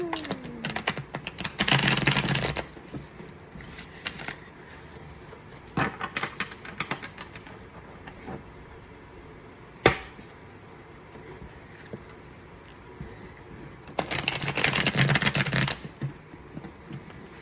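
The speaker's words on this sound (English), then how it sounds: "Trying to break these cards in." A deck of new playing cards is shuffled in two loud riffling bursts near the start and end, with scattered softer flicks and taps between them, all close and without talk.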